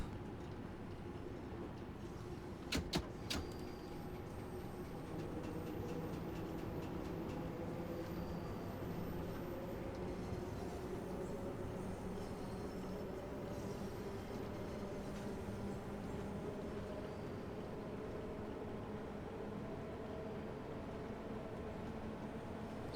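A Bakerloo Line Underground train running in Train Sim World 2, with a steady loud rumble and motor whine that rises gradually in pitch and a couple of sharp clicks early on.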